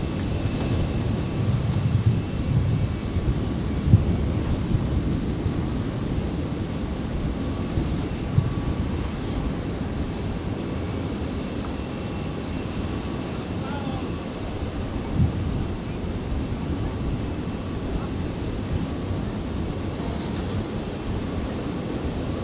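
A Qantas Boeing 737 airliner touches down at Brisbane Airport after a flight from Melbourne, its roar steady, broad and rumbling throughout, with wind buffeting the microphone.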